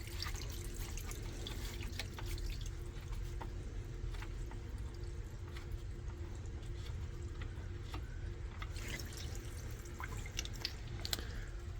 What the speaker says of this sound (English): All the water in here is draining out through those drains down there.